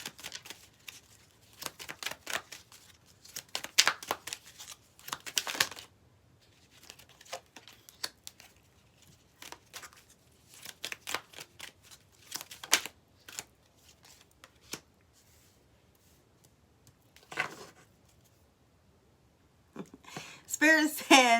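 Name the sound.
drawing and shuffling tarot cards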